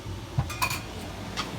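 A metal pastry blender mashes berries in a pot, giving a few faint, scattered metallic clinks and taps against the pot over a low background hum.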